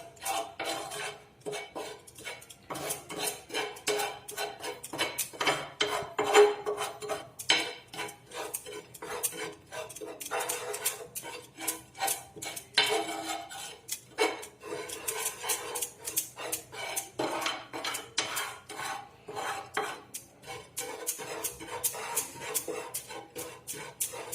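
Sugar melting in a pot for homemade soft drink wax is stirred continuously, a utensil scraping and clinking against the metal in a busy, steady rhythm throughout, close and fairly loud with no talk.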